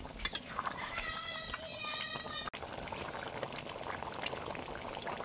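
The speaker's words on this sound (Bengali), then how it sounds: "মাংস করা ফুটছে" Steady bubbling and simmering of chicken curry in a pot on the stove, a dense continuous hiss with faint clinks early on.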